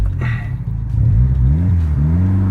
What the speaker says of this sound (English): See, full throttle. Man, this thing is screaming.